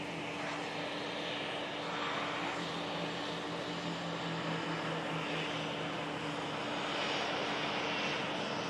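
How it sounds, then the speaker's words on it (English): A Jet2 airliner taxis past at close range at Manchester Airport's Runway Visitor Park, a steady, moderately loud engine roar and whine holding throughout with a slight swell toward the end. "The 2873 for Hurghada, about to taxi past right in front of us at the Runway Visitor Park."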